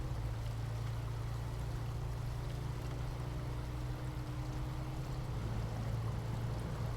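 River water flowing in SnowRunner, a continuous rushing and trickling stream under a low steady rumble, constant level throughout, no voices.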